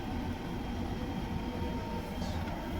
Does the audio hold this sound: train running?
yes